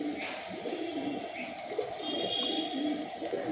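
Imported pigeons coo in a steady low, throaty murmur, close and moderately quiet, with a few faint higher chirps over it.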